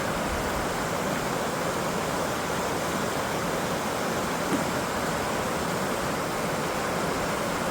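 A river running slightly high after a little rise in water, pouring steadily with a broad, even rushing roar that stays close and constant throughout, with no voices over it.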